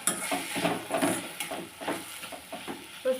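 A spoon stirs a tomato and cluster bean curry with turmeric in a pan, making soft, close scraping and clinking strokes over a faint, continuous sizzle, with no voices.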